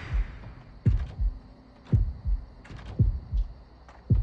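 A pounding double-beat heart throbs repeatedly in the Horrorfield survival horror game, deep thuds recurring at a steady, insistent pace over a soft background hum.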